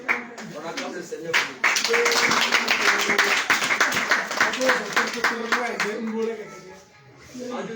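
A church congregation claps together during an Easter service in Kara, Togo, a loud, dense burst of applause lasting several seconds, with voices mixed in before it fades.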